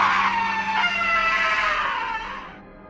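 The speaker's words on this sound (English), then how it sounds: "we heard the scream one more time" A long, shrill scream rings out from beyond a tree line at night, drawn out and wavering for a few seconds before fading away.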